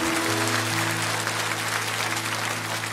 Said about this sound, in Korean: 모든 분들 큰 박수로 축복하면서